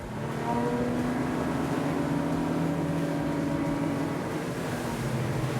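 A Jeanneau 10.5 motorboat with twin 300 engines getting up on plane, the steady loud drone of the motors holding an even, rising-pitched roar over rushing water throughout, with no talking.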